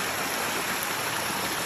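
A mountain stream on the Gunung Pulai hiking trail rushes steadily with a dense, even hiss of flowing water, close and loud, with no voices over it.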